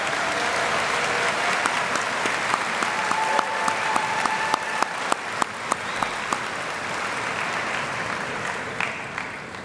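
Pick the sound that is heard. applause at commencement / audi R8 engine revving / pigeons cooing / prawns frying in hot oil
applause at commencement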